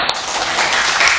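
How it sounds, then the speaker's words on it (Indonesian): Audience applause at an Indonesian school waste-awareness event, a dense, loud burst of many hands clapping that fills the whole short moment. "Tepuk tangan lagi yang banyak dong buat Mas ini"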